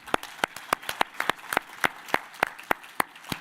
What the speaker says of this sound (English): How about a round of applause for these 3 guys